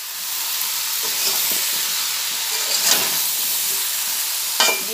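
Vegetables with salt frying in a pan for a vegetarian pachon dish, a steady bright sizzle with occasional scraping knocks of a spoon stirring, close and continuous.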